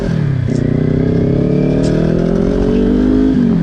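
A Kawasaki Ninja 400 motorcycle accelerating hard in a speed test, a loud, close engine whine rising steadily in pitch through the gears for a few seconds, with no voices over it.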